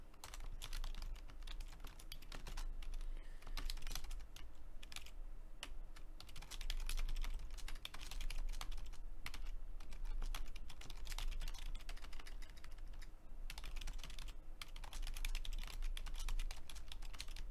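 Steady, quiet typing on a computer keyboard while coding a two-pin button project, with dense rapid keystrokes running throughout and no talk.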